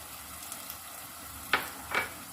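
Frying chicken for palak gosht sizzles quietly in a pot as tomatoes are added, with two short bursts of louder hissing and scraping over a low steady background.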